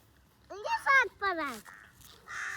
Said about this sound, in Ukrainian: Що це ворони літають тут у нас?